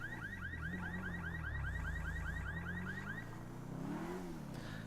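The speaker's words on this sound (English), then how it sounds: "I'm just going to sit here until hopefully the alarm switches off." A car alarm in the Grand Theft Auto video game, heard while driving as Franklin, repeating a rapid chirping electronic wail for about three seconds over a loud, steady engine drone, then cutting off while the engine continues.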